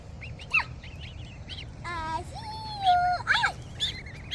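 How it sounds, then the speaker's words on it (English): Several young goslings call nearby with short squeaky peeps and honks, scattered irregularly over a low background rumble. "And there's our geese that we got on March 17th"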